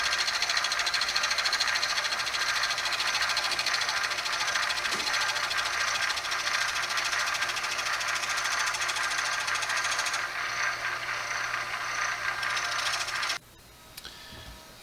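A lathe turns down a dry wooden dowel for an acoustic guitar build, giving a steady, close mechanical whir and rattle that runs evenly before cutting off abruptly near the end.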